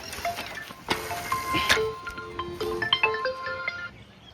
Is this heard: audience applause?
no